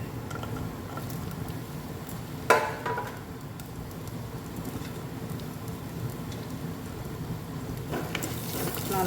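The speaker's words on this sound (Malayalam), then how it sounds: "നന്നായി വഴറ്റി കൊടുക്കണം." Chopped shallots, green chilies and ginger sizzle in a hot pan for inji puli ginger curry, a continuous crackling patter with an occasional sharper spatter as the mixture is stirred.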